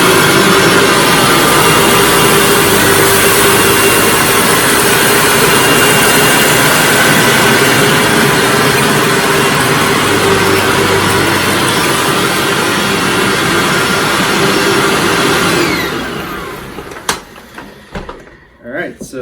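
A Hoover WindTunnel self-propelled vacuum cleaner, model U6485900, runs on carpet with a loud steady motor roar, then spins down near the end into scattered clicks and knocks.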